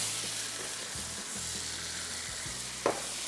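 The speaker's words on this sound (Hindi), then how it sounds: "इसके बाद अब इसको हमने तेज़ आंच पे फ्राई करना है" Beef stew sizzles and fries in a pan over high heat with coriander and spices, a steady soft crackling hiss with a brief clink near the end, no talking.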